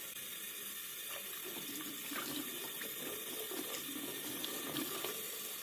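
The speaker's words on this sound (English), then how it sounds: "I fill it with the tap water" Tap water running steadily into an antifreeze coolant tester, a constant faint splashing stream heard alone.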